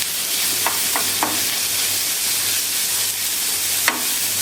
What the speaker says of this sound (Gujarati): હવે આ ડુંગળીને થોડીક ટ્રાન્સપરન્ટ થાય ત્યાં સુધી આપણે મિક્સ કરશું